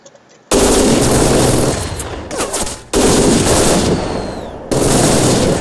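Rapid automatic gunfire from The Fall: Last Days of Gaia, loud, dense bursts broken by brief pauses, with separate volleys resuming several times.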